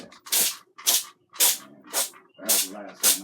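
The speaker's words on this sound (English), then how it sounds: "Spray your breaded wings" Six short bursts of cooking spray hissing from a can onto breaded frozen wings, evenly spaced and close, with a voice faintly audible between some bursts.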